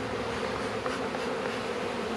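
Honey bees around a hive during a queen installation make a dense, steady buzzing drone, soft and continuous, with no voices.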